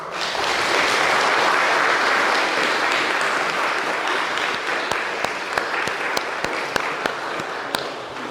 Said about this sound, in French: le travail bien fait mérite quelques applaudissements